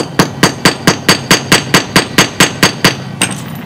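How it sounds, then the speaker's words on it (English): Hammer strikes closing a loop of galvanized trapping cable, about fourteen sharp metallic blows in a steady quick rhythm, close and loud with no talking. "I just hammer it shut"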